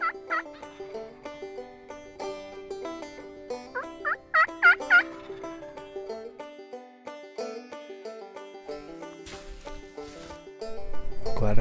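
A wild turkey gobbles in spring woods, several distinct rolling gobbles at mid distance, clearest in a loud burst near the middle, against quiet forest background with faint rustling at the end.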